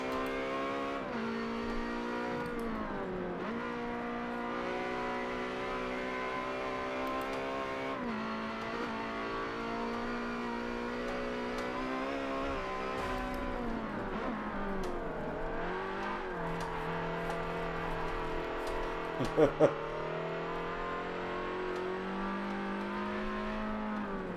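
A race car engine in Forza Motorsport 7 holds a loud, steady drone, with repeated quick throttle blips and pitch drops as it downshifts and rev-matches. The car runs a drift-oriented tune, and a brief tire squeal comes near the end.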